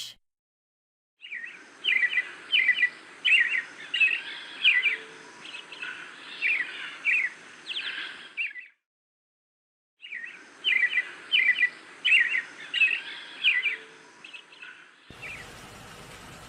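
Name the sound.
thrush song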